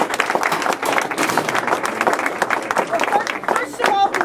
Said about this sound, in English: let's have a hand for her